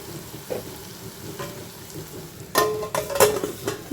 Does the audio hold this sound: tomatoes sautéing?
yes